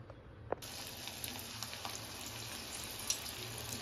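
Cauliflower manchurian mixture dropped into hot oil, a sudden onset of bright steady sizzling with a few soft pops and crackles, close and continuous.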